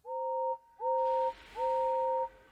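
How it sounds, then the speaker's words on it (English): A distant steam engine's whistle sounds in three long, steady two-tone blasts, each held about half a second or more, alone and clear with no talk. "Far away, but getting louder and louder, was the sound of an engine's whistle."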